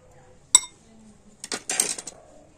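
A spoon tips cocoa powder into a semolina batter: one sharp metallic tap, a short pause, then a quick cluster of clinks and scrapes against the bowl, close and fairly quiet with no speech.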